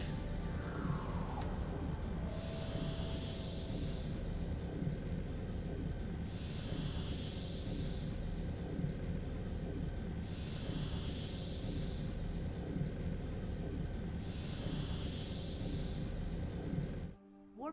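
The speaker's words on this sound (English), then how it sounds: "Warp engine activated. Booyah! Warp speed." A spaceship warp engine in Dyson Sphere Program drones as a dense, steady roar, with a soft pulsing hum swelling every few seconds, ending abruptly with a short clatter.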